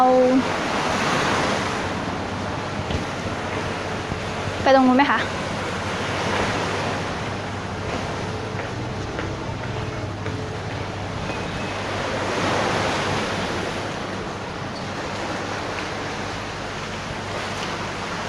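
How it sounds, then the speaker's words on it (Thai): Sea waves wash onto a beach on Koh Lan, a continuous surging hiss with gentle swells, mixed with wind buffeting the microphone; someone speaks briefly at the start. "ได้ยินเสียงคลื่นซัด"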